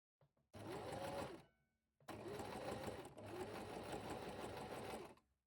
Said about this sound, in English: we select our zigzag stitch on a narrow setting, and we stitch from the inside, gently pulling the fabric to ease it around the curve